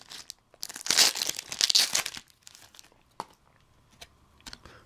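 Foil Pokemon POP Series booster packs being torn open by hand, with loud crinkling and ripping bursts at first, then dying down to sparse light card and wrapper handling.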